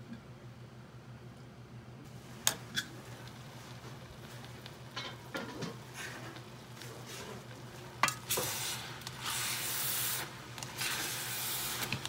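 Seafood sotanghon noodles are stirred in a pan with soft scraping and a quiet bubbling sizzle, a utensil occasionally knocking the pan; no one speaks.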